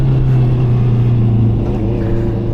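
A Honda CB650 motorcycle with an aftermarket exhaust idles and revs close by, a steady low droning engine tone with a slight rise in pitch, and no talking.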